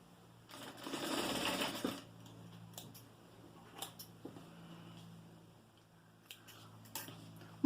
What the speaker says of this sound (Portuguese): Então, vamos costurar.